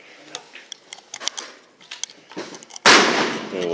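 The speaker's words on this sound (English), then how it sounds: "we've got a 9mm Glock for the time being. So we'll take 5 rounds with that one." Sharp 9mm Glock pistol shots ring out in a quick irregular series of cracks, followed by a louder sustained burst of noise near the end, with no talking.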